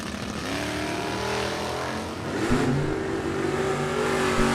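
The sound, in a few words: 1976 Buick and 1978 Ford drag racing off the line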